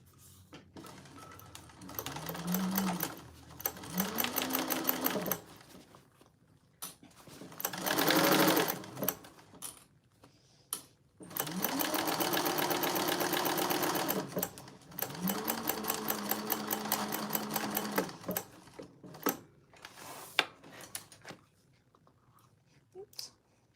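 A sewing machine stitches the bottom seam of a handbag lining at a quarter-inch seam allowance, running in several loud bursts of rapid mechanical chatter separated by pauses and light handling clicks.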